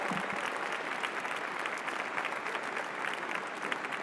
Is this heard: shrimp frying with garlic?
no